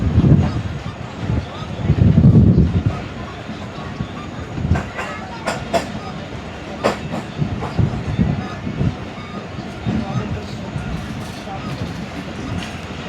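Millat Express passenger train running through Tando Adam station, a continuous rumble with rhythmic rail clatter and rattling carriages heard from on board, fairly loud and close, with brief voices in the background.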